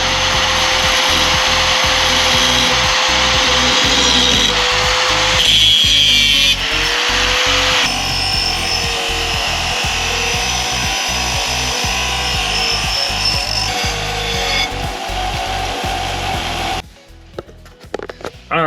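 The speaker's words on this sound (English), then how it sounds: "We're gonna get the metal cut up and cleaned up, and we're gonna try some welding now." Metal being cut up and cleaned before TIG welding: a close, loud power tool grinds and rasps continuously, its tone shifting as pressure changes, with rhythmic scraping strokes throughout before it stops abruptly near the end.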